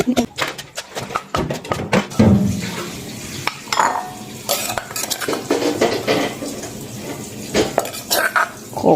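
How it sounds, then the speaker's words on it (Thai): Star gooseberries being pounded a little at a time in a mortar, giving loud, irregular hard knocks and clatter with wet squishing, close by. "โขกทีละหน่อยเพราะน้ำเขาจะกระเด็นนะคะ"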